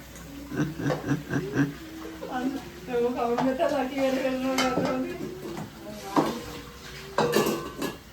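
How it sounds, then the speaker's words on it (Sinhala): A knife taps and clicks against a board and dish while chilies are chopped in a home kitchen, the sharp cutting strikes coming in irregular clusters beneath steady conversational talk. "අයියේ මම මිරිස් කපනවා."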